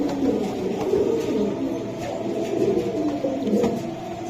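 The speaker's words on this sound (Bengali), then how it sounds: "কবুতরগুলো দেখেন আপনারা" A flock of racer pigeons at a seller's loft coos continuously, making a low, overlapping murmur of soft calls from many birds at close range.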